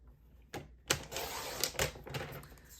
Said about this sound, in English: You'll need to bring in a paper trimmer, and we're going to cut off a 1-inch strip.